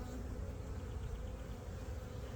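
A dense, steady drone of honey bees fills a crowded hive being opened for a swarm-prevention split, a continuous low buzz with no talk over it.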